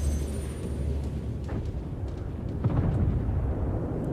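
A bomb hit on a warship in a naval combat game lands as a deep, rumbling explosion, with a rolling low boom and a further burst near the end, loud and close, with no voices.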